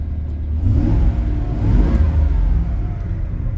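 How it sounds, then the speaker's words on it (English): The engine of a 1993 Chevy Beauville van runs at idle after a restart, a steady low rumble with a slight swell in revs, close by and smooth. "See if you can hear the engine running."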